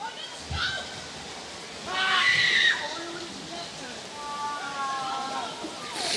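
Outdoors, people shout and scream in high voices while catching tadpoles by hand, with one loud outburst and later higher-pitched calls. Chatter and splashy background noise continue around them.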